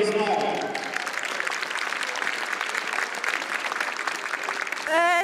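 Applause from an audience at a bird of prey demonstration in Villers-la-Ville: sustained clapping from a crowd, steady and fairly loud, with a voice speaking over it at the start and end.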